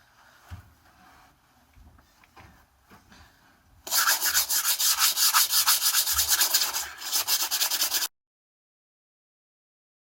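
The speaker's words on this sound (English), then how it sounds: "coming through with the sandpaper, working back and forth, up and down" Sandpaper rubs back and forth over a large moose antler shed in quick, loud strokes for about four seconds after a quieter stretch of faint handling noise, then stops abruptly.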